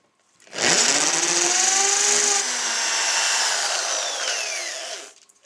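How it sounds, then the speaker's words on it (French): A power drill bores a pilot hole in one loud, continuous high whine of about four and a half seconds, starting sharply and cutting off at the end, with no voices. "Alors, vous faites un avant-trou."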